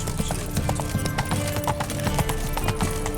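Horse hooves gallop in The Witcher 3 video game, a fast, loud, continuous clip-clop rhythm close up, with game music and ambience underneath.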